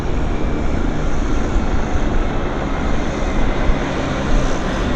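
Steady loud rotor and engine roar of a BC medical helicopter flying at Vancouver Airport, a continuous low rumbling drone with a faint high whine, holding constant throughout.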